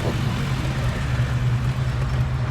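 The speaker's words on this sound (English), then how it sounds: "I love the sound of a Fox body." Engine of a 1990 Ford Mustang Saleen Fox body heard from inside while driving, a steady, loud low rumble with road noise, no talk.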